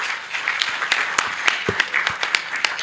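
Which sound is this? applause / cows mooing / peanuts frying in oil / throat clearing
applause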